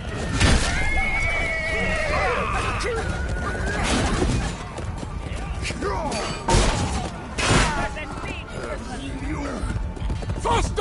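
Horse neighing and whinnying in a video game, a few loud whinnies over busy game noise with thuds and crashes, while people talk throughout.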